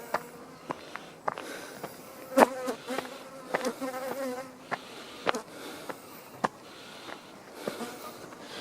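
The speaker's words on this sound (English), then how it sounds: "These are Pittsmore bees. Pissed off bees." Angry bees buzz around close by in a steady, insistent drone that rises and falls as they circle, with sharp clicks and light rustling footsteps mixed in.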